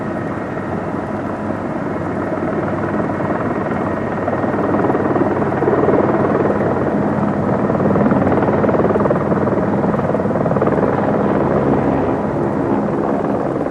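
A helicopter hovers and flies low over marshy rice fields near excavation sites in Vietnam, a steady, loud rotor drone that swells slightly toward the middle without pause.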